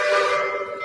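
A train whistle in a railroad game sounds as a sustained, bright tone with a strong steady pitch, loud and close, fading slightly toward the end.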